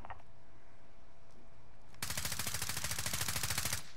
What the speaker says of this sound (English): I missed all those shots again